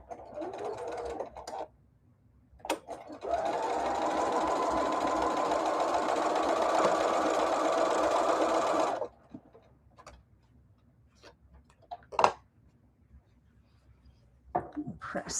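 A sewing machine stitches fabric in one steady whirring run of about six seconds, close and fairly loud, framed by quiet clicks and rustles of handling before and after.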